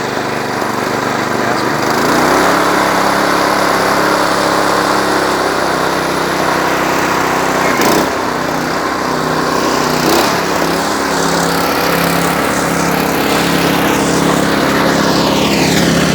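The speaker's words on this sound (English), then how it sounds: "I like these engines." A small Honda-clone gasoline engine on a John Deere 826 snowblower starts up and runs steadily nearby, a loud, buzzing drone that holds for the whole stretch with slight wavers in speed.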